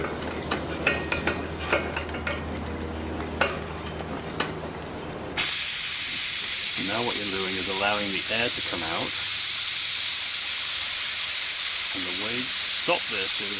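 Pressure relief valve of a 1lb propane bottle being refilled is forced open, releasing a sudden loud, steady hiss that continues for several seconds while a voice talks over it, after some earlier clicks and handling.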